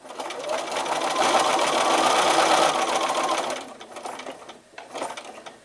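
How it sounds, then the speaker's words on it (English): A sewing machine stitches a jelly roll mug rug in one loud continuous run, then stops, leaving faint handling sounds and quiet rustles. "Don't forget to back tack a bit and sew down to the next corner."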